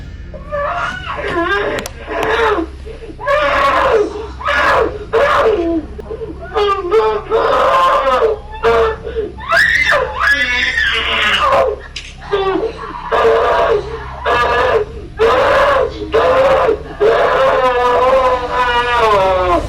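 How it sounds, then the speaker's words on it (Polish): A four-year-old child screaming, with loud, strained, wavering cries repeated in bursts over a continuous noisy background. "czteroletnie dziecko wydaje z siebie taki krzyk"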